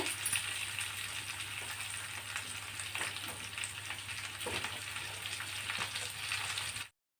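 Cut potato pieces fry in a pan, giving a steady, even sizzle close up that continues without a break and then stops abruptly.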